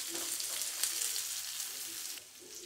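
Onions frying in a pan for a quick cheese sandwich snack, a steady soft sizzle with faint crackles and occasional stirring, close but fairly quiet, with no talking.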